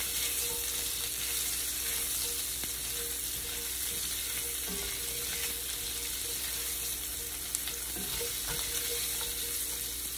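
Meat patties fry in a pan with a steady, continuous sizzle and faint crackle throughout, with no talking.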